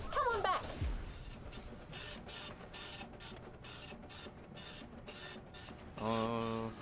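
Printer machine running in Borderlands The Pre-Sequel, a rhythmic mechanical chugging of repeated clunks and whirs, moderately loud and close, with a brief electronic tone at the start and a buzzing hum near the end.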